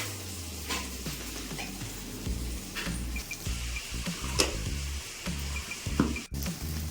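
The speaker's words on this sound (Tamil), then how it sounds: "இது சாதத்தை வந்து இப்போ வறுத்து விட்டுக்கலாம்" Cooked rice frying and being stirred in a pan, with a steady sizzle and repeated scraping strokes of a utensil, loud and close, with no talking.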